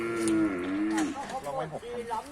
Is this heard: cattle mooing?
yes